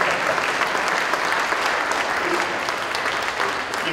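Crowd at a celebration of 400 years of Armenian-American history applauds for Maggie, a museum director, with sustained dense clapping, loud and even throughout.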